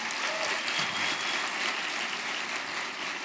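A church congregation applauds the Lord during a sermon, a continuous even wash of clapping heard throughout at moderate loudness, with no voice standing out.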